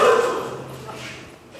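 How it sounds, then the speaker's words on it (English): A border collie and a Belgian Tervuren playing together, giving a short close yip or bark that fades quickly, with a voice faintly underneath. "it's a border collie with a Belgian Tervuren, but their play is very polite"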